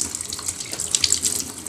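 Tap water runs steadily over an aloe vera leaf being washed in a sink, a close, continuous splashing hiss with small irregular spatters as the leaf is rinsed.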